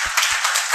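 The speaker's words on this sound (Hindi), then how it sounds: "तालियों के साथ स्वागत।" Brief burst of applause, dense crowd clapping with a couple of low thumps, short and fairly loud.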